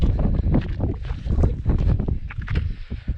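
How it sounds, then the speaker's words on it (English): Strong gusting wind on the summit of Scafell Pike buffets the microphone, a continuous low rumble with rushing surges throughout, loud and close. "Very windy up the top"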